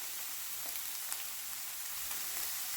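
Steady sizzling of ginger and garlic sautéing in a pan after a splash of rice wine vinegar, a close, even hiss with small pops and no talking.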